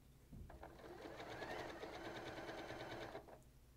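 A sewing machine stitches a quilt around curves, a fast steady mechanical whir and clatter that starts, runs evenly for about three seconds close by, then stops.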